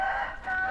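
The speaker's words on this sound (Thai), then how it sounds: "เอาบรรยากาศเสียงไก่ขันมาฝากพี่น้องนะครับ ไก่อก ไก่ เกิน ไก่ ไก่ชนเนาะ" A rooster crows nearby, a single sustained call from fighting cocks kept behind a house, clear and fairly loud.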